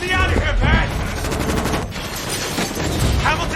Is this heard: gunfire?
yes